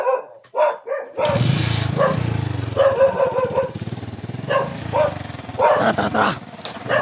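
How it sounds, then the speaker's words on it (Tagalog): A dog barks loudly and close by in repeated bursts, with a motor rumbling underneath and a brief human call near the start. "Bilis ni aso."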